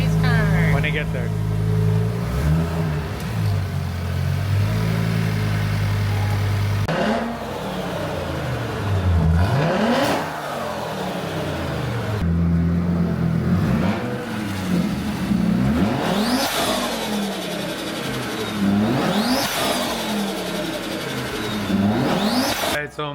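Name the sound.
Audi RS3 8Y engine revving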